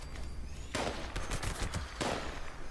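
Pepper Shaker gun in Fallout 76 fires rapid bursts of gunfire, three distinct volleys of fast, sharp shots in quick succession, loud and close.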